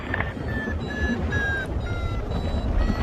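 A paraglider's variometer beeps in a quick repeating series of short electronic tones during basic thermal training. The beeps run over steady wind rush and background rumble.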